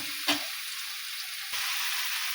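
Green chili paste stirred into chayote curry in a hot pan: a constant bright sizzle broken by two short spoon scrapes, close and alone without talk.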